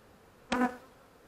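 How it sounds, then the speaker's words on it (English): A honey bee at an open hive gives a single brief, close buzz that fades quickly against a quiet background. "he's got bees all over him."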